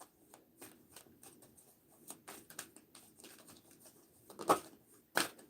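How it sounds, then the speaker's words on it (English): Playing cards riffled and shuffled in short bursts, with soft flicks and a couple of sharper snaps near the end, close and fairly quiet. "These cards are not wanting to shuffle."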